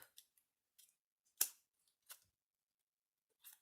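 Scissors snip the corners off playing cards to make a journal page corner, a few sharp, crisp, close cuts separated by quiet gaps, with one louder clip in the middle.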